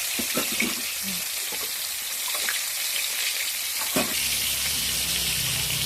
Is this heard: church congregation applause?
no